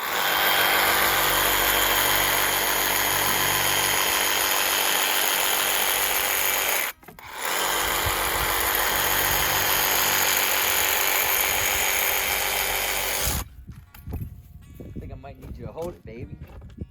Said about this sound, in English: Sawzall with the metal blade, so it's not so jagged.